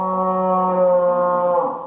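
A cow lets out a single long, low moo, loud and close, holding steady before tapering off at the end.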